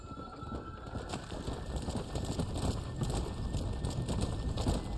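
Horse hooves clopping on the ground in Red Dead Redemption: Undead Nightmare, a steady run of overlapping hoofbeats at close range under ambient game noise and bird calls, with no talk.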